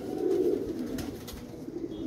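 A pigeon coos softly in a low, steady murmur against faint background noise, with no voices.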